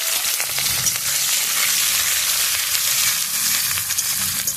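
Chopped green chilli, garlic and onion frying in hot oil with dried red chilli, producing a loud, dense, crackling sizzle throughout with light scraping underneath.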